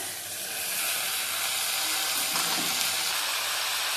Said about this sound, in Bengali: টমেটো একটু নরম হয়ে গেছে এবার দিয়ে দিচ্ছি কেটে রাখা পালং শাক